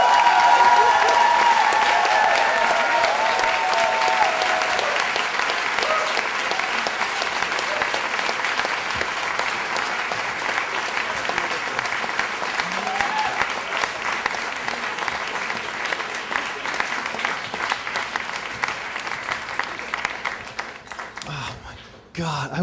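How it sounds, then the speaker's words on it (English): An audience applauds after a storytelling performance, sustained clapping that is strongest at first and slowly thins out over about twenty seconds before stray handling noises. "another round of applause"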